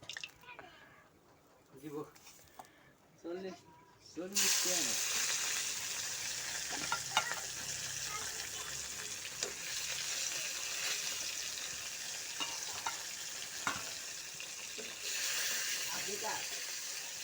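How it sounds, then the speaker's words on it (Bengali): Oil heats in a pan for rohu fish curry with mustard paste, starting with a few quiet clicks and knocks, then a sudden steady sizzle that crackles on loudly and continuously with occasional sharper pops. "তেলটা গরম হয়ে যাক"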